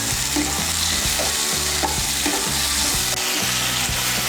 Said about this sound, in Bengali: জিরে বাটা আর ধনে বাটাটাকেও মিশিয়ে নেব তেলের সঙ্গে